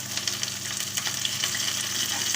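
Onions and curry leaves sauté in oil with spluttered cumin for drumstick sambar, a dense, close sizzle with quick crackling pops and stirring throughout, no talk.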